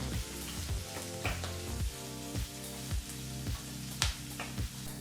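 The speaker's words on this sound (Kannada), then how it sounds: "ಈಗ ಮೀಡಿಯಂ ಫ್ಲೇಮ್ನಲ್ಲೇ ಎರಡರಿಂದ ಮೂರು ನಿಮಿಷ ಈ ಪದಾರ್ಥನೆಲ್ಲ ಫ್ರೈ ಮಾಡ್ಕೋಬೇಕಾಗತ್ತೆ" Chopped onion and curry leaves fry on a medium flame for a mixed vegetable palya, giving a steady close sizzle with a run of rhythmic stirring scrapes through the pan.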